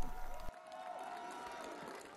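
Supporters of a French presidential candidate applaud at a campaign announcement in Lyon, a steady crowd clapping and murmur that holds at moderate level after a brief louder opening, with journalists surrounding the scene.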